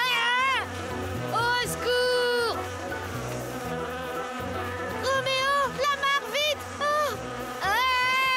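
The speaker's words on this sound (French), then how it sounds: "Un essaim d'abeilles?" Swarm of bees buzzing in a French cartoon, whining high drones that rise and fall in repeated swoops over a music bed, with cartoon voices around them.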